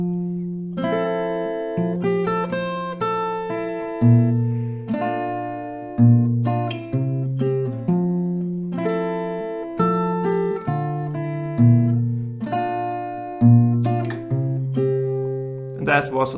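Acoustic guitar playing a song at a slowed tempo, with fingerpicked notes and chords in a steady, repeating pattern, clear and close with no talk over it.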